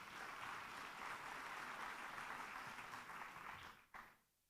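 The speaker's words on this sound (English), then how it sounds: "Round of applause." Sustained audience applause at the Global Data Festival welcoming an ambassador from the Special Envoy on Technology, a steady, fairly distant wash of clapping that cuts off abruptly near the end.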